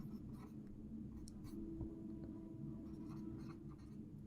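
A pen writes a word by hand on a surface in faint scratchy strokes, heard over a steady low background hum.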